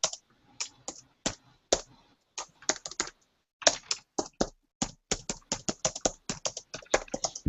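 Typing on a computer keyboard during an online office-hours session, with bursts of close, crisp key clicks separated by short pauses.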